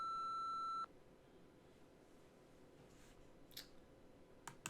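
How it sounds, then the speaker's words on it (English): An answering machine in a Nancy Drew PC game sounds one steady electronic beep lasting under a second, followed by near-silence with faint clicks and small taps. "wait for the beep and leave us a message."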